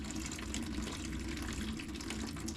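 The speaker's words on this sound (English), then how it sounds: "and now we're going to go back and drain hot water tank" Hot water draining from the hot tank of a water cooler during a cleaning flush, a steady close rushing and gurgling stream that runs without pause.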